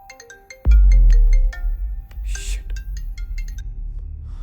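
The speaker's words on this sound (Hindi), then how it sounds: "ये रात को 1 बजे तुझे कौन फोन कर रहा है?" A phone rings late at night in a room, sounding a bright tonal ringtone melody. A loud low thump cuts in partway through, and a rumbling background stays underneath until the end.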